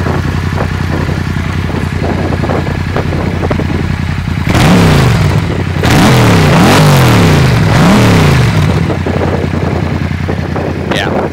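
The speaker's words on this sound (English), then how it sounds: "Let's give it some revs here." A Yamaha MT-07 with an Akrapovic titanium exhaust, full Power Commander tune and the baffle removed idles loudly, then is blipped through about four sharp, deep revs before settling back to a rumbling idle.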